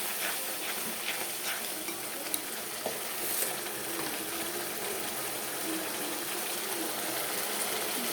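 Masala spices fry and get stirred in a pan for a chicken curry, making a steady close sizzle with occasional faint scraping clicks from the stirring throughout.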